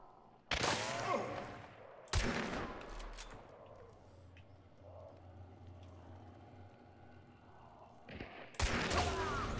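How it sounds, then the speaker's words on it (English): Bursts of gunfire in the video game Hunt: Showdown crack out in three loud volleys, the first two close together and the last after a lull, with faint rumbling background between them. "They're shooting me."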